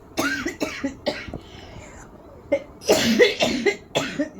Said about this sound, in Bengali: মারাত্মক কাশি, মারাত্মক কাশি।